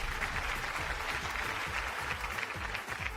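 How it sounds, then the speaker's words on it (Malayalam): A studio audience on a Malayalam TV game show applauds with dense, even clapping that holds steady and fairly loud throughout the brief moment. "നല്ലൊരു കൈയടി പ്ലീസ്"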